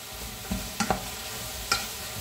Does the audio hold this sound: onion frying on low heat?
yes